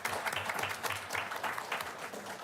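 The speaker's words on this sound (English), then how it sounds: "Let's give her another big round of applause" Meeting attendees give a round of applause for a presenter, a steady wash of distant, soft clapping from a small crowd throughout.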